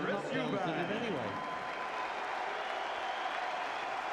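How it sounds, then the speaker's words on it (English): Sustained crowd applause for boxer Chris Eubank, the two-time world champion, at his fight against Joe Calzaghe. A voice talks briefly at the start before a steady, even wash of clapping continues alone. "And a round of applause for the two-time world champion, Chris Eubank."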